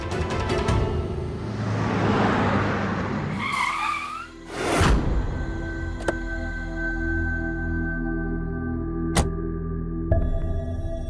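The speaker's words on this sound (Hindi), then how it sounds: "हमने कहा गाड़ी रोकिए" A car's tires squeal and skid as it is brought to a stop, a loud rising screech that ends abruptly, followed by a quieter scene with a steady hum and occasional ticks.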